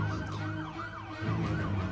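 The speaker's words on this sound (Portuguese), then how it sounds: "Nossa sirene, o que será que está acontecendo?" An emergency vehicle siren wails in rising and falling sweeps, fairly loud and nearby, over a low rumble of traffic.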